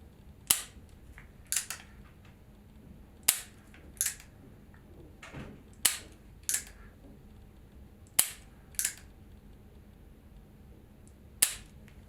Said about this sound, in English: I'm doing a very simple 5-shot single target test just to kind of demonstrate how the system works